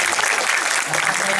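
Audience applause at a poetry reading event, a steady dense wash of clapping filling the whole moment, close and fairly loud.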